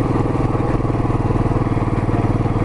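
A Royal Enfield Classic 500 single-cylinder engine thumps steadily under load while climbing a mountain road at night, a loud, close, even rhythmic pulse with faint wind noise and no talk.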